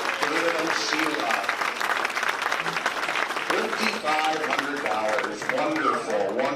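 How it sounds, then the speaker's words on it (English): Applause at a live charity fundraiser auction after a winning bid, a crowd clapping steadily beneath people talking and calling out, with the voices prominent over the clapping throughout. "Let's give them a round of applause"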